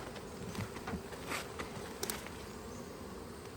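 Honey bees buzz around a brood chamber full of honey during a hive harvest check, a dense steady hum with a few nearer insects passing close in brief louder swells.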